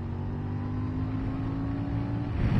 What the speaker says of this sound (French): c'est très agréable d'avoir une moto, voilà, très légère et qui grogne.